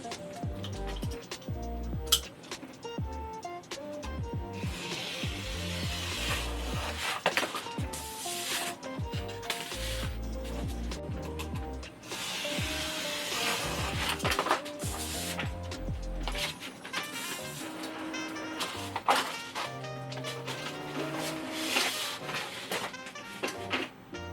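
Printer running a job of book covers, steady whirring and rhythmic ticking with occasional clunks and paper-feed swishes, continuous and moderately near, with no talk.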